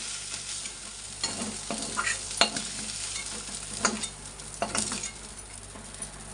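Shrimp frying in a wok until reddish, a constant oily sizzle broken by several sharp scraping stirs at irregular intervals, with no talk.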